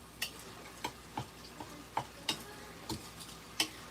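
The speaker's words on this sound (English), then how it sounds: "I'll go ahead and stir the flour and the sugar together" A spoon stirs flour and sugar together in a bowl, giving soft, irregular taps and scrapes against the bowl roughly every half second, faint and close with no talking.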